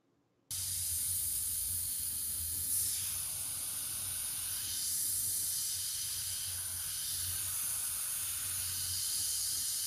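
An airbrush sprays paint in a steady, continuous hiss, close and even, starting abruptly and holding with slight swells in airflow.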